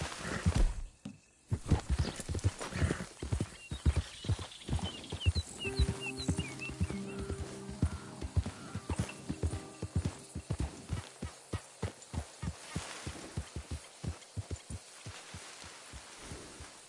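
Horse hooves clip-clop in a video game as the animal is ridden, a quick regular rhythm of sharp thuds that speeds up then slows, close and clear, with faint musical tones and a brief quiet gap early on.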